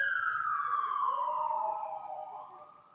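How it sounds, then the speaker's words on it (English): A police siren wails outside during a Waikiki neighborhood board meeting, one long tone sweeping steadily downward and fading as the vehicle moves away, heard alone without talk. "We'll let the sirens go here just for a second"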